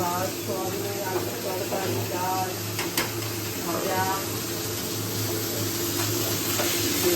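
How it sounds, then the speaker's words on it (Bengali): Fish sizzles as it fries in a pan at home, a continuous hiss with occasional stirring clinks and scrapes, while voices come and go in the background. "এখন ভাজা হচ্ছে বিড়ালের মাছ"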